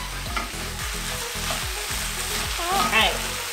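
Spaghetti squash and kale are stirred in a hot pan with the heat just turned off. Rhythmic scraping strokes come about twice a second over a continuous close sizzle, with no talk.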